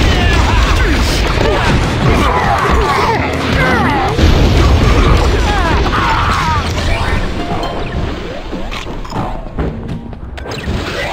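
Shaggy's jump attack in the Wii game Scooby-Doo! First Frights: a run of loud crashing impacts and whacks over busy game music and effects, thinning toward the end.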